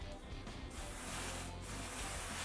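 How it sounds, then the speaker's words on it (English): Contact cleaner sprayed onto the oil filter cover of a Suzuki RM-Z450 motorcycle makes a close, loud, continuous aerosol hiss that barely wavers for a couple of seconds. "Make sure to clean the oil filter cover with some contact cleaner."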